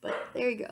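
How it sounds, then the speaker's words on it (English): A dog barks in the background, worked up after a doorbell rang, its yips and barks sitting beneath a person speaking close to the microphone. "that's my dog in the background losing her mind"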